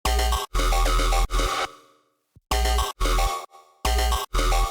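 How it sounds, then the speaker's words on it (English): A synth wavetable preset from Phase Plant, shaped by post-processing, plays in loud, bright, buzzy chopped stabs that cut in and out rhythmically, with a short gap of silence in the middle. "The sound is pretty much just the wavetable and some post-processing."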